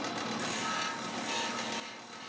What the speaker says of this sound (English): I'm going to come over to the disc sander and start shaping.